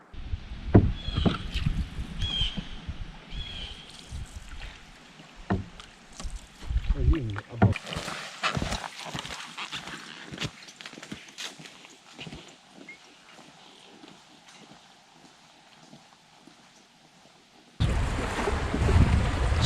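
A canoe is paddled on a windy lake with big waves and whitecaps: close paddle strokes and hull knocks splash irregularly over lapping water, with a burst of wind noise at the end.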